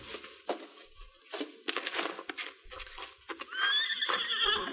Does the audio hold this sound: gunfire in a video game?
no